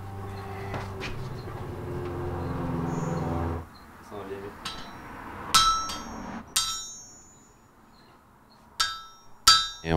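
Hammer blows ringing on iron over an anvil in a blacksmith's forge, a handful of sharp, irregular metallic strikes following a steady low droning hum at the start.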